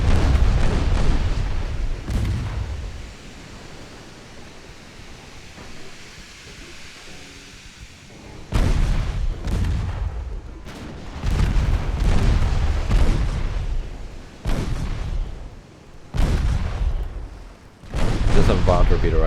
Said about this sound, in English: let's just blast the battleship first and then worry about this tub after